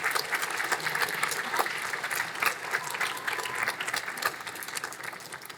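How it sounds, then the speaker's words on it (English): Audience applause at a graduation ceremony, offered to friends and family, a sustained, even wash of clapping from a large crowd, moderately loud throughout. "let's offer them your applause and an opportunity for thanks"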